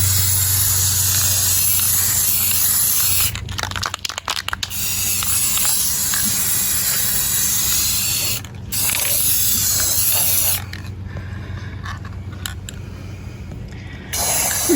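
A rattle can sprays paint onto a Cadillac air filter assembly laid on newspaper, giving long, loud hissing bursts broken by short pauses, with mechanical rattling between passes.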